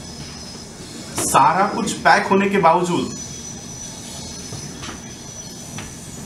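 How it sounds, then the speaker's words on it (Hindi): A train rolls past on a nearby railway line, heard from indoors behind closed windows as a steady low rumble with faint wheel squeal, while someone speaks over it for a couple of seconds. "ये अभी भी एक रेल जा रही है।"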